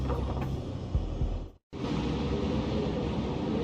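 A subway train in the Max Payne video game rumbles and clatters steadily with a low mechanical drone, broken by a brief gap of silence before the ride noise resumes.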